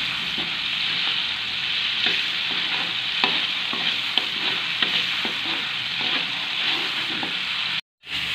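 Ground spice paste for an oncom stir-fry sautéing in a pan, with a steady close sizzle and frequent scraping stir strokes throughout, then a brief cut to silence near the end.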